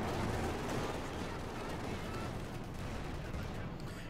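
High explosive rounds fired by a command tank in Company of Heroes 2, heavy rumbling blasts and gunfire blended into a constant battle roar under a talking voice.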